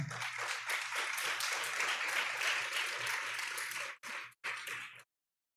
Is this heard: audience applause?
yes